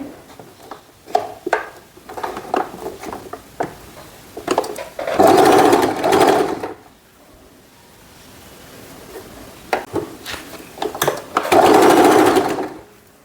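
Sewing machine stitching a silk skirt and long blouse, running in two loud bursts separated by quieter handling noises and pauses, close up with no talking.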